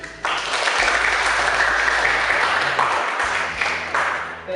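Applause for a seminar speaker fills the room, a dense, steady wash of many hands clapping at close range for several seconds without pause or talk.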